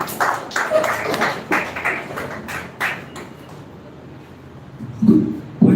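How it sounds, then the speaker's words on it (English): Audience clapping in a classroom question session, a scattered round of claps that thins out and dies down, followed by a brief shuffle or thump near the end. "Clap for it."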